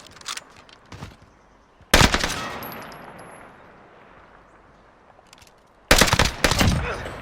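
Gunfire in the video game Warzone comes in loud bursts of rapid shots, one around the two-second mark and another near the end, with scattered quieter shots between them and no speech.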